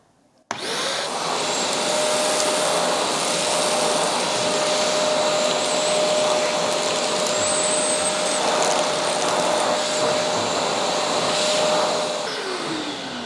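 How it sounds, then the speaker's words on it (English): A Vacmaster Multi 20 PTO wet and dry vacuum cleaner running with its hand tool fitted starts abruptly and holds a loud, steady whine with a constant tonal hum, close by and unbroken for the rest of the clip. "just for this test, I'm just going to see with the hand tool on"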